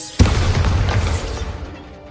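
Bombarda spell blast in Hogwarts Legacy: a single sharp boom bursts out near the start, then a loud rumbling roar that slowly fades over about two seconds.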